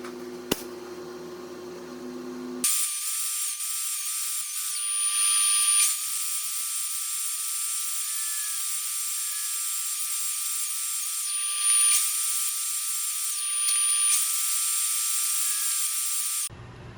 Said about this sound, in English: we're gonna cut a groove at what we're gonna consider the top of the box